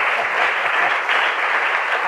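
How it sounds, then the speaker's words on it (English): A short burst of steady, dense applause from an audience honouring guests at a design talk, even and sustained throughout. "a jolly big clap"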